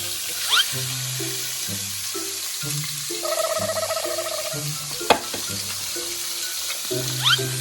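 Two eggs added to pork in a frying pan sizzle steadily while a spatula scrapes and clanks at irregular intervals, with a brief burst of running tap water partway through, all close and fairly loud.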